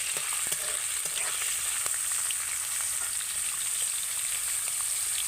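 Raw chickpeas fry in hot oil with whole garam masala in a pan for a banana flower dish, giving a steady close sizzle with scattered small pops and crackles and no talking.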